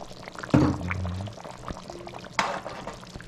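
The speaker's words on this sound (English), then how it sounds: "I'm gonna add a little bit more water because you need water to cook this curry" Water is poured into a pot of chicken curry in two short bursts, splashing close by with quiet sizzling between.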